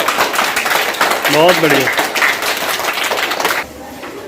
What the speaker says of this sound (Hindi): आयुष के लिए तालियां बजाइए।